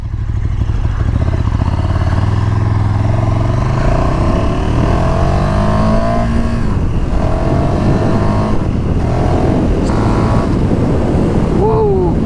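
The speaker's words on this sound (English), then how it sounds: "Now, engine braking is pretty intense." A 2019 KTM 1290 Super Duke R roars as it slows under engine braking, loud and close, the engine note sliding down with crackles and burbles over constant wind rush, with a brief shift blip near the end.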